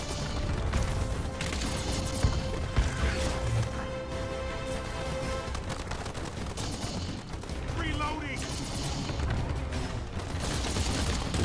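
Dense enemy gunfire in the Earthfall shooter game, rapid overlapping automatic shots forming a continuous loud barrage with occasional sharper bangs, close and unbroken.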